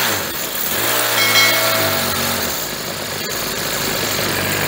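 A Troy-Bilt four-stroke engine that leaks oil runs close by, revving briefly before settling into a steady, loud idle with no one speaking.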